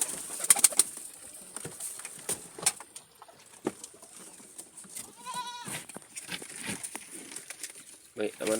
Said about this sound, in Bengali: আমার এই একজোড়া কালদম কবুতর